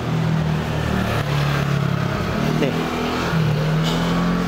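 Motorcycles and cars pass through central Taipei street traffic, giving a continuous close engine drone with scooter revs rising and falling, under a voice speaking briefly.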